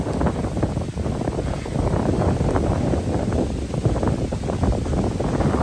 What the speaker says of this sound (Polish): Sorry za ten wiatr, ale tu nic nie poradzę.